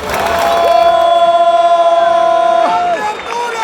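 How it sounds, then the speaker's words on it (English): A football crowd at Camp Nou roars after a goal with loud, sustained cheering and a chanting, pulsing swell of voices that fades near the end. "Crowd is seriously going crazy at this point"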